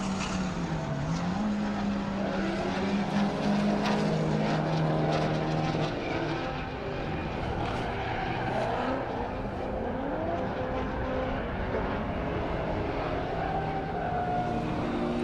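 Race cars, including a Honda Accord, lap Circuit of the Americas with a loud sustained engine drone that rises and falls in pitch as cars pass, accompanied by broad road and wind noise.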